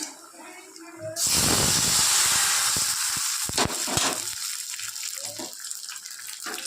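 Hot oil tempering with mustard, urad dal, curry leaves and broken chilli hits a bottle gourd kootu with a sudden loud sizzle, a sustained bright hiss that slowly fades with some crackles over several seconds, no talking.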